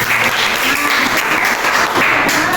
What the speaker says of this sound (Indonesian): tepuk tangan untuk Fatia